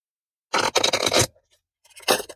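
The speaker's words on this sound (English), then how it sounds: "it doesn't have to break a deck in order to shuffle it well" Two bursts of rapid papery riffling, a longer one followed by a short second one after a brief pause, close and fairly loud.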